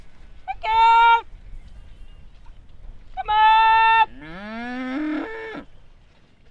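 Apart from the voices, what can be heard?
herd of dairy cows mooing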